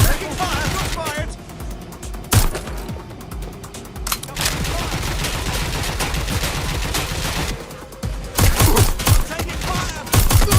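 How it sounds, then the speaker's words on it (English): Gunfire rattles in Watch Dogs Legion, with dense bursts and sharp shots alongside mechanical clatter, continuous and loud, while voices shout over the shooting. "I think we're taking fire! Shots fired!"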